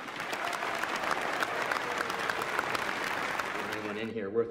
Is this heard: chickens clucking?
no